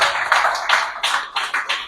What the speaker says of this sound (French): Recevez nos acclamations, s'il vous plaît.